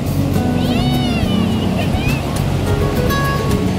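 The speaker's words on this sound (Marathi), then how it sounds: "अशा प्रकारे मोठ्या मोठ्या लाटा येत आहेत" Large ocean waves break and wash continuously at Shiroda beach, a loud steady surf roar filling the whole stretch, with voices and wind noise mixed in over it.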